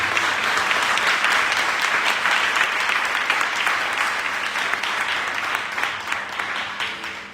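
A church congregation bursts into sustained applause, a dense wash of many clapping hands that holds steady and then slowly tapers off, with a few voices faintly mixed in.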